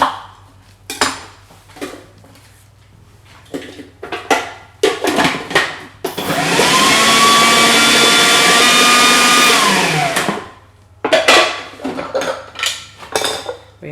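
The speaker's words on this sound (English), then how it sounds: "So I blend each ingredient individually" A blender whirs steadily for about four seconds, blending coarsely chopped red onion, framed by clattering kitchen handling and knocks of dishes and utensils before and after.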